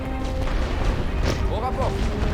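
Artillery barrage in The Great War: Western Front, a WWI trench warfare game: a dense, continuous rumble of booms and crashing shellfire under game music, with one sharper blast standing out near the middle.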